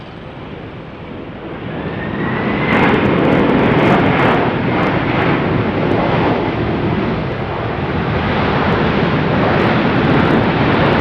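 An airliner lands at Phoenix Sky Harbor airport with reverse thrust, a broad roar that swells after a couple of seconds and stays loud and sustained to the end.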